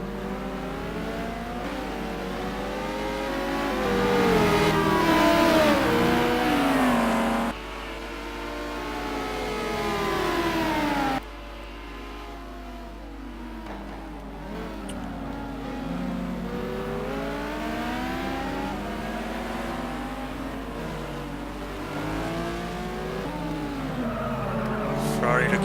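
Simulated race cars, including a Ferrari, lapping Kyalami in a sim racing game, with engines whining and revving up and down through gears and corners, layered and continuous, with a voice commentating over them.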